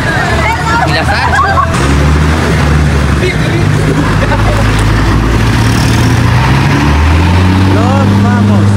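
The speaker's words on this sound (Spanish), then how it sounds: "estás hablando y nadie te escucha por el ruido del carro" A steady car engine rumbles and drones throughout while people talk and chatter loudly over it, the noise constant and close.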